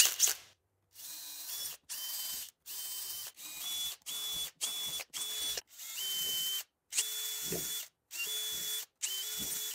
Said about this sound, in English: Now you're ready to drill some holes.